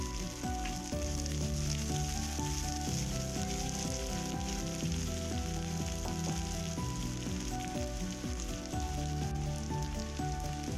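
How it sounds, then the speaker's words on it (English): Diced onion sizzles in hot oil with toasted cumin seeds, a steady loud frying hiss that runs unbroken through the whole stretch over a tonal background. "Next I add a half big onion diced."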